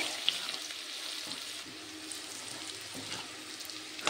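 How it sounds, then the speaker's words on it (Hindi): Ginger, garlic, chili and cumin paste fries in a hot pan, a steady close sizzle running throughout with faint stirring clinks and no talk. "अभी उसको थोड़ा फ्राई करेगा"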